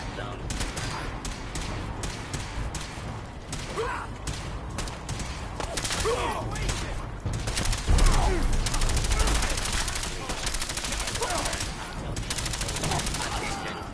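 Fallout 4 Protectron robot opens fire: continuous loud laser and gunfire bursts rattle on for the whole stretch, with a heavier thump near the middle and faint voices mixed into the din.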